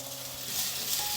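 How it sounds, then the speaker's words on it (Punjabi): Ground tomato paste fries in a pan with onion, ginger and garlic for an aloo bhuna masala, a soft, steady sizzling hiss heard close up without talk. "ਤੇ ਹੁਣ ਇਹ ਟਮਾਟਰਾਂ ਨੂੰ ਵੀ ਆਪਾਂ ਭੁੰਨ ਲੈਣਾ ਹੈ"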